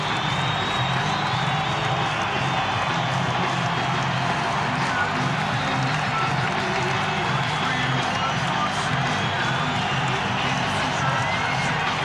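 A basketball arena crowd at a Seattle SuperSonics versus Charlotte Hornets NBA game keeps up a loud, continuous roar of cheering and clapping, with a commentator talking over the din.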